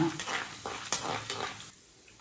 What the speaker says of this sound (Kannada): ಸ್ವಲ್ಪ ಕಡಲೆಬೇಳೆ ಫ್ರೈ ಆಗುವಷ್ಟು ಇದು ಮಾಡ್ಕೊಳ್ಳೋಣ, ಸಾಟೆ ಮಾಡ್ಕೊಳ್ಳೋಣ, ಫ್ರೈ ಮಾಡ್ಕೊಳ್ಳೋಣ